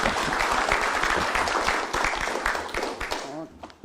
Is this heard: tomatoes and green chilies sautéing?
no